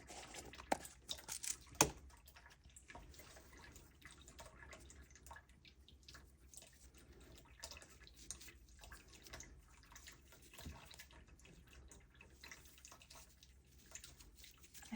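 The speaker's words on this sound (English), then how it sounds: "the water fountain for the kitties gets louder" A cat water fountain runs indoors, giving a quiet, continuous trickle and drip with a few small clicks and knocks scattered over the quiet room sound.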